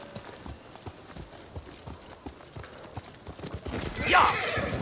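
Steady clip-clop of a horse named Sora's hooves at a trot in the video game Ghost of Tsushima, close and rhythmic, ending in a loud whinny, with someone talking in French over it.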